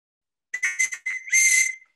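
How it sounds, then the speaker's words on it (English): A handmade silver tube whistle made from metal clay plays a few short, bright chirping notes, then one longer sustained shrill tone, close and clear against silence. "It's a tube whistle."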